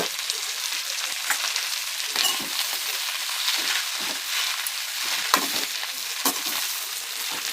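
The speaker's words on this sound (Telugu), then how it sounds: "ఆయిల్ వేడైనాక గోంగూర పెడతా." Three kilos of gongura leaves frying in hot oil for a pickle, a dense, steady, loud sizzle with occasional crackles and stirring scrapes throughout.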